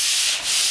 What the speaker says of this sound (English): I'm not sanding it hard. This is 120 grit paper.